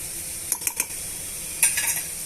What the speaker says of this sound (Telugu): ఇలా బీట్రూట్ని అంతా కూడా వేయించేసుకోవాలండి